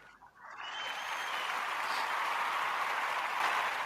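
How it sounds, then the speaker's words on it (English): A live podcast audience breaks into applause, building quickly from quiet into a dense, steady wash of clapping that holds strongly to the end. "please give a round of applause"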